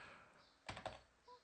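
Computer keyboard typing: a couple of quick, faint keystroke clicks close together followed by a softer tap, in a quiet room with no talking.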